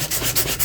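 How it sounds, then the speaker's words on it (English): Paper postcard from a junk journal being hand-sanded to strip paint, a steady close scratchy rasp of back-and-forth rubbing strokes that fills the short stretch without pause. "I'm just going to try to sand some of it off"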